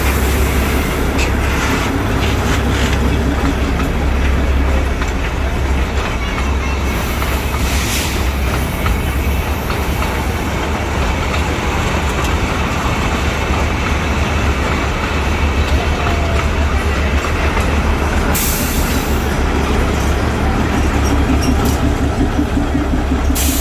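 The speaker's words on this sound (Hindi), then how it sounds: "इंडिया में गिनल चुनल जगह पर से ई टॉय ट्रेन चलै छै" The Matheran toy train on its hill-station line rumbles along steadily nearby, a loud continuous wheel drone with faint clacking and a couple of higher squeals.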